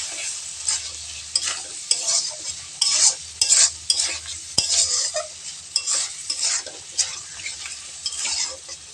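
Spice paste being stirred into prawns in a hot frying pan, with steady sizzling and frying under repeated scraping, clinking strokes of a utensil against the pan, close and loud throughout.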